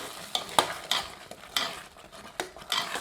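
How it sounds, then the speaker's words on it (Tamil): Roasted cashews and raisins being stirred into sweet pongal in a pot, a series of distinct, close scraping and clinking strokes of a spoon against metal over a soft bubbling background. "இப்போ வறுத்த முந்திரி திராட்சை சேர்த்துக்கலாங்க நல்லா ஒன்று சேர கலந்து விட்டுட்டு"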